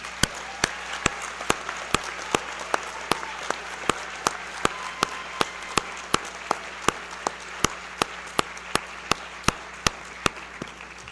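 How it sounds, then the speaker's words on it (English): Steady applause from a graduation ceremony audience fills the space, with sharp individual claps standing out regularly above a dense wash of hands. "Everyone, please join me in a round of applause for our graduates and their families."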